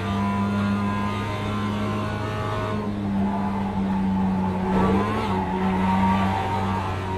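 A race car driving in the iRacing sim game, a loud continuous engine drone with steady tonal whine that dips and rises as throttle is lifted and reapplied, tire noise underneath.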